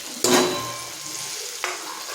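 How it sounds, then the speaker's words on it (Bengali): Potatoes and pointed gourd drop into a wok of oily spice paste with a loud sizzling burst, then a steady fry and a second sharp sizzle as more pieces go in, close and without speech. "দিয়ে দিচ্ছি আলু পটলগুলো।"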